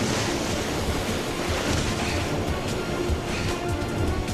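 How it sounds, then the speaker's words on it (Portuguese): Tidal surge of seawater crashing in the Bay of Fundy: a dense, continuous roar of churning water and surf with wind noise, loud and close with no let-up. "A torrente de água se choca contra a baía."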